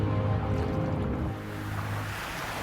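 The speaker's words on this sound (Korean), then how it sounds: "파도에 밀려" Ocean waves wash and churn in a soft, steady rush of surf that stays fairly faint and continuous throughout.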